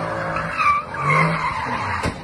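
A car drifting in the video game CarX Drift Racing 2, tires squealing in a long wavering screech over engine hum, loud and close, with a brief sharp click near the end.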